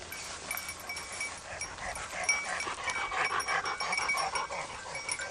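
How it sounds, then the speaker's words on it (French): An exhausted dog panting outdoors, rapid rhythmic breaths repeating steadily throughout, fairly faint and close, with no talking over it. "Il y a le chien qui en peut plus."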